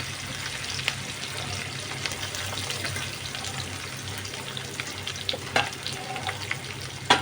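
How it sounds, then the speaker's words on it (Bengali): Onions hiss and crackle steadily in hot oil up close, with occasional sharper pops and the scrape of stirring near the end. "পেঁয়াজটা ভাজা হবে"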